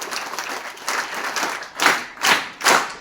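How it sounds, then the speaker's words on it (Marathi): An audience at a Marathi ceremony claps to welcome guests, with steady scattered clapping that swells into three louder bursts near the end. "त्यांचं टाळ्या वाजवून या ठिकाणी आपण स्वागत करूया"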